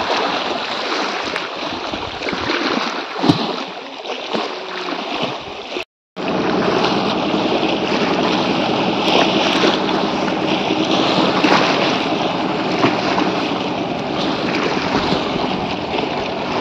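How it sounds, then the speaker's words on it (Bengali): A boat passes along the Matla river in gusty wind, a steady broadband rush of engine, water and wind that fills the whole stretch, broken by a brief cut near the middle. "নৌকাটা চলে গেল"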